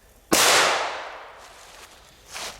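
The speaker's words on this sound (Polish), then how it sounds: "To wali jak nie jedna petarda, która teraz kosztuje 10 zł za paczkę." A single Explosive 1 small firecracker goes off with one sharp, loud, close bang and a long fading echo, followed by a fainter rumble near the end.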